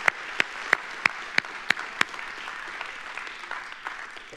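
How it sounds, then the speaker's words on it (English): Church congregation clapping for the Lord during a Sunday service, a rhythmic run of about seven sharp, evenly spaced claps over a softer crowd patter that continues more loosely afterward. "Would you give the Lord a hand clap?"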